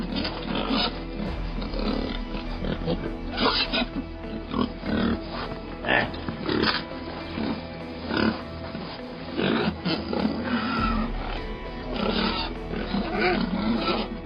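Wild boars grunt and snort in repeated, uneven bursts, close and fairly loud, over a constant low background.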